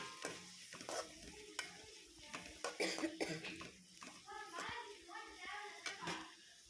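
Chopped onions sautéing in a pan for homemade kothu parotta, with soft sizzling, scraping stirs and a few coughs, fairly faint and close.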